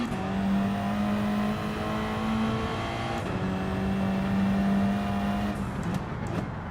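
Steady engine drone of a car in the racing game Gran Turismo 7, a continuous hum that holds and shifts pitch slightly as the car drives, with a couple of brief gear-change breaks and no talk.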